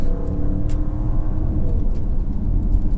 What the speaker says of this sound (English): That was a very easy overtaking maneuver, no problems there at all. The car really took off.